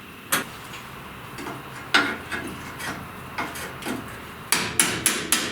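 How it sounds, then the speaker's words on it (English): A steel chisel is hammered between the riveted flanges of a 1930–31 Model A Ford firewall, giving sharp metallic strikes spaced apart, then a quick run of four louder blows close by. "I'm going to drive a chisel between the flanges and try to spread them apart."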